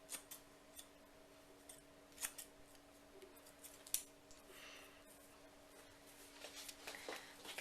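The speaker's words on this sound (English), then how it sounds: "Can you overdo it with thinning scissors?" Thinning scissors cutting short hair, a series of soft, irregular snips and clicks heard up close against a quiet background, with no voices.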